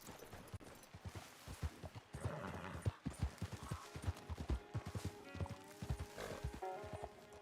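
Galloping horse in the Western game Red Dead Redemption, hooves pounding in a quick irregular rhythm close by, with occasional whinnies and a faint tonal background bed.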